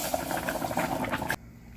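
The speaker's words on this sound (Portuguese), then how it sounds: "E eu vou colocar a água que já está fervendo." A burst of hissing and bubbling as boiling water is poured into rice frying in a hot pan, crackling loudly for about a second before cutting off abruptly.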